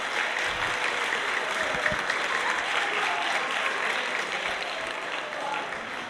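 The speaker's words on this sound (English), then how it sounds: "Give yourself a round of applause." A room of ELA students at a storytelling session applauds steadily, a dense even wash of clapping that holds for about six seconds without letting up.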